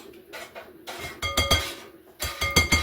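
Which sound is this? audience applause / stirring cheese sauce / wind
stirring cheese sauce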